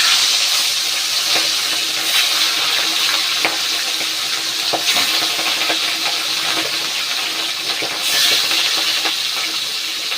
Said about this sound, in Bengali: তেল গরম হয়ে গেছে, মাছটা দিয়ে দিই।